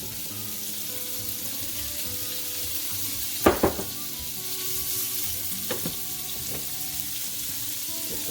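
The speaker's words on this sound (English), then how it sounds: "We're just adding the pancetta to the pan." Pancetta sizzles in a hot pan with mild extra virgin olive oil on high heat, giving a steady close crackling hiss, with a few utensil knocks and clinks against the pan partway through and no voices.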